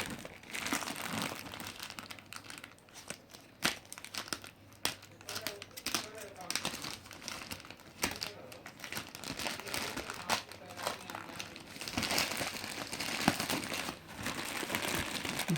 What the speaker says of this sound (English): So let's unbox it.